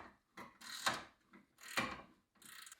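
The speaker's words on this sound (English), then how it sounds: "We can go ahead and remove this bolt now." A ratchet works a rusted control arm bolt on an Audi B5 S4 suspension, producing a few loud, close bursts of grinding ratchet clicks separated by short pauses.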